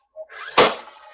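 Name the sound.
nail gun firing nails into shiplap boards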